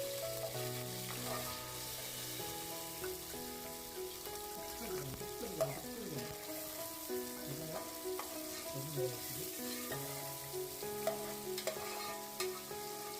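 Curry leaves and finely chopped onion sauté in a pan for sukka chicken, a steady frying sizzle with spatula stirring scrapes throughout, under a faint background music bed.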